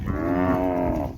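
A cow out with a herd of about fifty cattle being driven to graze in the rain lets out one long, loud, close moo that holds steady, with no talk over it.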